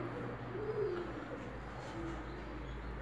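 Crested yellow homing pigeons coo softly in a low, rolling murmur, with one or two faint coos over a quiet background hum.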